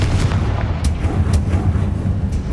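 A Confringo blasting spell detonates in the Hogwarts Legacy video game, giving a loud, sustained explosive roar with rumbling low-end bursts and crackling debris that fills the whole moment, with no voices.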